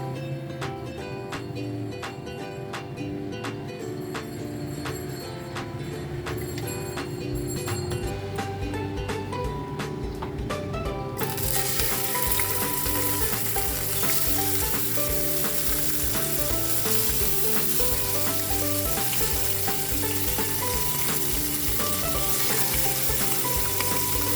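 Fish fries in hot cooking oil in a pan, a dense continuous sizzle throughout, starting slightly muted and then flaring brighter and louder midway, with faint clinks of utensils.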